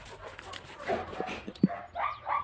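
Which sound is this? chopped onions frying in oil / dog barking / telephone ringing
dog barking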